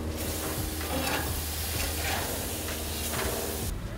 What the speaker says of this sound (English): So we're gonna go in with the mutton snapper. Shell side down,